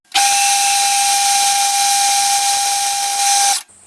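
A steam engine gland being opened out with a number K drill on a workshop machine, a loud steady high whine with a strong sustained tone that cuts off abruptly near the end, no voices.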